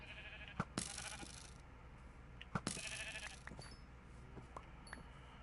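Sheep bleat in the video game Minecraft, two bright, fairly close calls about two seconds apart, followed by faint game clicks and soft background noise, with no talking.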